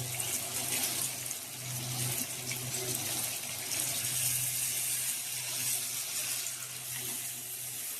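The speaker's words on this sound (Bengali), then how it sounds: "মাছটা খুব সুন্দর ভাজা ভাজা হয়ে গেছে, এবার সামান্য একটু পানি দিব।" Water runs steadily into a pan of fried katla fish for about eight seconds, a continuous pouring wash with no talk.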